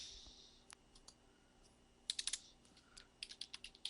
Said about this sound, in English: while I'm still trying to type